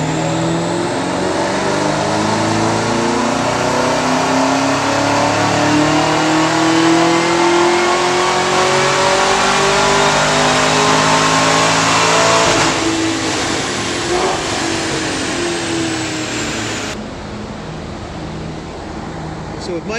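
Chevrolet Camaro ZL1 with a ported supercharger running hard on a dyno, a loud, close, sustained engine roar climbing steadily in pitch with supercharger whine, then easing off near the end.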